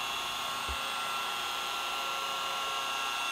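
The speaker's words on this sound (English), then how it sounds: "The speed of the rotary polisher is barely at the third speed setting." Rotary polisher running at a low speed setting with a hybrid pad and cutting compound, buffing soft clear coat. A steady, even machine whir holds for the whole stretch with no talk.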